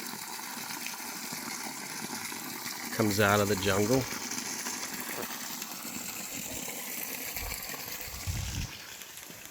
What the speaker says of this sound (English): Got a little waterfall, little stream.